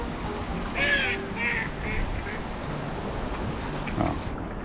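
Ducks on the water give a short run of harsh, nasal quacks, fairly close, fading over a couple of seconds, then one more call against a steady outdoor background hiss.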